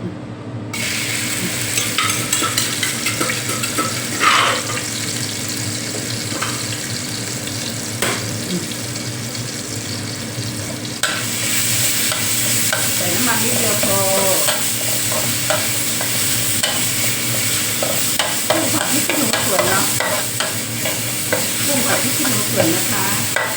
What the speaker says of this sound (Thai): เราก็จะมาผัดพริก ผัดกระเทียม